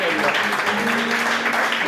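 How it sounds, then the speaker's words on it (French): An audience at a church service applauds steadily in a dense, continuous patter of clapping, with a voice speaking over it. "Acclamez un peu"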